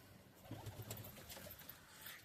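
Native pigeons coo inside a loft, a few faint low burbling calls over quiet room noise, without any speech.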